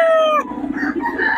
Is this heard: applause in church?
no